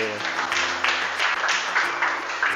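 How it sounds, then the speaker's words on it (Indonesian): Classroom applause for a student during a lesson on indefinite integrals: a dense, steady patter of many hands clapping together, fairly loud, with a low background hum beneath it. "Nah, tepuk tangan untuk Nabil."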